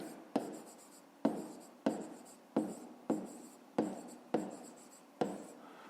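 A pen writes on paper during a 5th-grade math exercise. Soft, close scratching strokes repeat in seven evenly spaced bursts, each starting with a light tap and then fading, with no talk over them.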